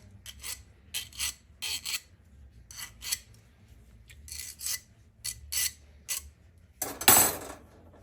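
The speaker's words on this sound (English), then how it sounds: "We're just going to take a little file, we're going to clean up the outside a little." Small hand file rasping across the cut end of a brake line during a Triumph Spitfire restoration, in short rhythmic bursts of strokes with brief pauses, close and fairly loud, ending with a sharper scrape.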